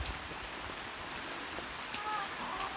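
Heavy rain falls on a street, a dense, constant hiss with scattered drop impacts throughout, while faint voices are heard under it.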